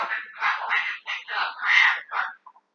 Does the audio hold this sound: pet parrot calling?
yes